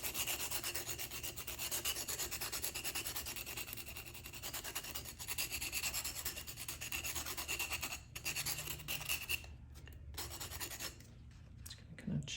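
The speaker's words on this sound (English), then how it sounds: "You can also buy sandpaper grits and go down through the grits and make sanding sticks with them" Steady, continuous rubbing and scraping of 180 grit sandpaper on a metal burnisher, close and constant for most of the stretch, easing into brief pauses near the end.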